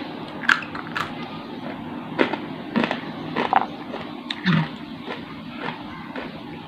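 Crunchy bites into the sweet flower ovary of a yardlong bean, a handful of sharp close crackling snaps spread unevenly over several seconds against a quiet background, with no talking.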